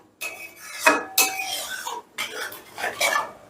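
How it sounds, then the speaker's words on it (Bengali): A utensil scraping and knocking in a pan while yogurt is stirred into a Bengali masala for rui fish tail kalia over a medium flame: close, irregular bursts of scraping with short pauses between strokes. "গ্যাসের আঁচটা মিডিয়ামে রেখে দইটা দিয়েও বেশ ভালো করে মশলাটাকে কষিয়ে নেবো"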